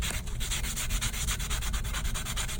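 Steady rhythmic rubbing of sandpaper over a resin-coated chunky glitter tumbler, close and continuous strokes with no voices.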